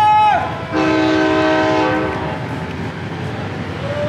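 A train whistle blows one long, loud, steady tone, fading into rail noise after a short earlier blast.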